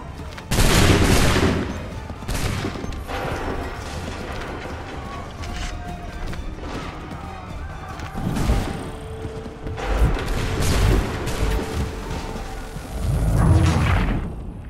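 Musket volleys and gunfire in a Battle of Lexington scene from the video game Assassin's Creed III, with loud crackling bursts near the start, around the middle and at the end over a steady battle din, and shouted commands mixed in.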